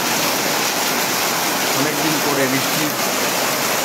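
Torrential rain pours down in Deganga, a dense, unbroken roar of falling water, while someone speaks briefly over the downpour.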